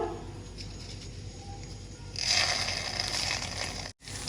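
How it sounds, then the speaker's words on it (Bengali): Panch phoron spices with cinnamon pieces drop into hot oil, a soft low hiss that jumps to a brighter, louder sizzle midway, then cuts out briefly near the end; no voices. "আর এক চা চামচ পাঁচফোড়ন এগুলোকে অল্প কিছুক্ষণ ভেজে নিব"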